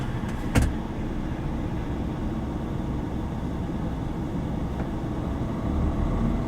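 A car driving toward the Mont Blanc tunnel crossing between Italy and France, heard from inside the cabin: a steady low engine and road rumble with a brief click near the start, no talking.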